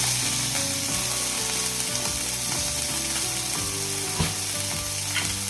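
Vaam fish sizzling steadily in hot oil in a frying pan for a crispy fish fry, a loud continuous crackle close up, with a few scraping clinks of a utensil, no talk.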